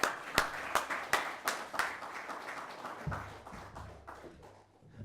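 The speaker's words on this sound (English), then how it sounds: "Please give him a round of applause." Audience applause for a debater at a City Club debate, scattered sharp claps with distinct individual hits that thin out, with a low voice entering partway through.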